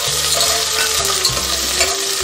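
Onions frying in a pan for raw mango rice, a loud, close, continuous sizzle with low scraping and stirring sounds, with no voices.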